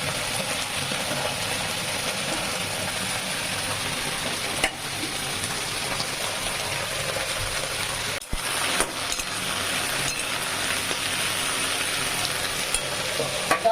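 Bitter gourd and potato fry in hot oil in a pan, a loud, dense, continuous sizzle close to the mic, broken by a couple of brief stirring knocks.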